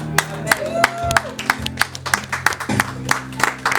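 Rhythmic but modest hand clapping from a church congregation acclaiming Jesus during worship, with sharp repeated claps mixed with voices and sung tones.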